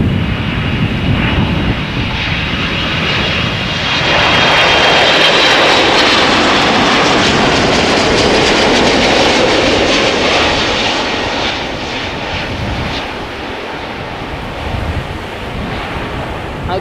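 Jet engines of a KLM Boeing 747 arriving, a loud sustained roar that swells and rumbles broadly before easing off, heard outdoors with wind buffeting throughout and no talking.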